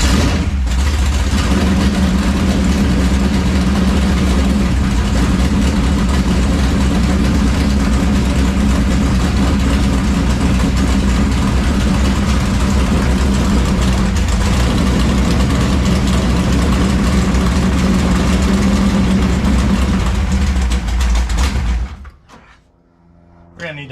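A 1971 Plymouth Duster big block engine runs loud and steady at close range, holding a rough, throbbing idle for about twenty seconds before cutting out abruptly.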